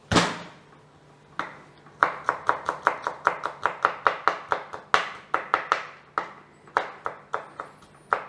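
A kitchen knife minces garlic cloves on a cutting board during cheesesteak preparation, with close, crisp chops falling in quick, even bursts separated by short pauses and no talking.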